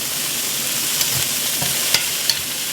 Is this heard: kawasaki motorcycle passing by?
no